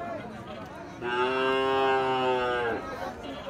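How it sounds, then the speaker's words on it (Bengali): A Gir cow at a livestock market gives a single loud, sustained moo lasting nearly two seconds, close by over a murmuring background of market noise. "এটা একটা গির, একদম পিওর গির। একটা গির এবং একটা পাকড়া সাইওয়াল।"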